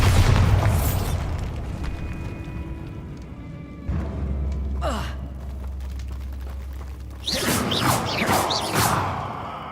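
Bombarda spell blasts in Hogwarts Legacy, with a deep booming explosion at the start, a rumbling low roar in the middle, and a second loud crashing burst near the end, with a voice heard briefly.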